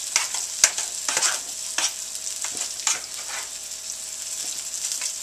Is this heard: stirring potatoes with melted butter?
yes